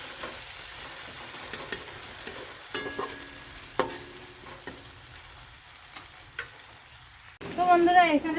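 Chowmein ingredients frying and being stirred in a pan, with soft sizzling and scattered scraping clicks throughout, then a louder burst of sizzle near the end as more ingredients go in.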